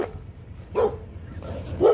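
A dog gives two or three short barks at a circus, fairly close and spaced under a second apart, over low background rumble.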